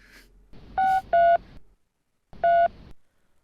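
A telephone being dialed: three short, loud touch-tone beeps, two close together and one after a brief pause, in an otherwise quiet room.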